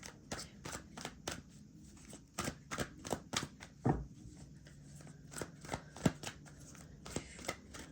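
Tarot cards are shuffled close up in a quiet room: a run of sharp papery riffles and snaps in irregular bursts, some quick clusters and a few louder flicks, with no talking.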